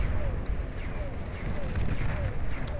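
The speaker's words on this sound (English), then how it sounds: "Mammoth's trying to blast down the Cerberus Cannon right here." Heavy cannon blasts from a Mammoth unit hammering a Cerberus Cannon in an 8v8 Beyond All Reason deathmatch, a dense, continuous rumble of repeated booms and impacts.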